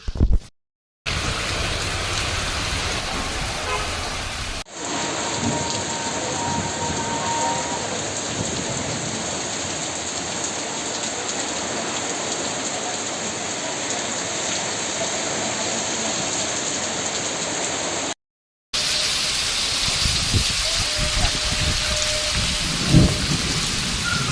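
Heavy monsoon rain pouring onto flooded town streets in Yeola, a dense continuous roar with thunder rumbling underneath, broken by two brief silent gaps.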